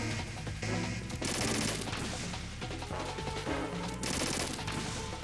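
Sustained M4 rifle gunfire in the Metal Gear Solid 2 video game, dense overlapping bursts of shots over game music and effects, loud and continuous with no talk.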